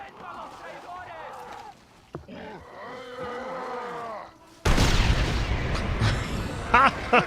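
Cannon fire in Red Dead Redemption Undead Nightmare starts as a sudden loud blast that rolls on into a rumbling barrage. Someone talks excitedly just before it.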